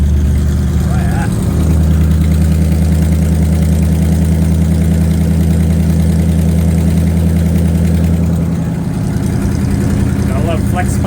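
A Cockshutt 555 tractor engine idles steadily after a cold start, a loud, continuous low rumble with an even throb running through the whole stretch and dipping slightly near the end.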